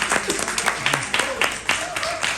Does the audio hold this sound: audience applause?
yes